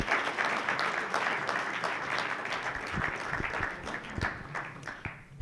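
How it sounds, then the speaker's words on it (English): A room of volunteers at a winter shelter orientation gives a round of applause, steady dense clapping for about five seconds, fairly close and with no talk over it. "let's give these beautiful ladies another round of applause"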